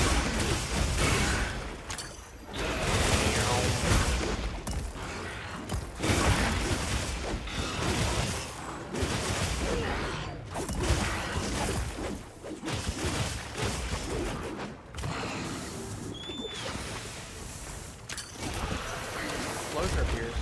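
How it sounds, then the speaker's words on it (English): Explosions in the Monster Hunter Wilds video game, dense repeated booms and crashes over a constant roar of battle noise, loud and continuous throughout. "Explosion appears. Double explosion."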